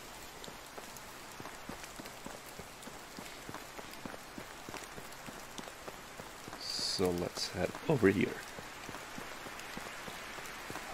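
Rain in the medieval survival game Medieval Dynasty, a steady pattering of drops throughout under a man's brief speech, with a louder burst of activity and footsteps partway through.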